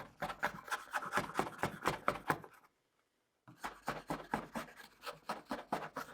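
Cut edges of wood pieces taped together are sanded by hand for an Aeolian harp, with rhythmic back-and-forth rasping strokes, close and fairly quiet, pausing for about a second before resuming.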